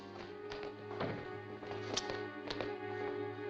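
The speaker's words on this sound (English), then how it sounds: "Outside, I could hear footsteps." Footsteps in a 1949 Batman radio drama, a series of soft taps roughly every half second under a steady musical bed, moderately close and fairly quiet.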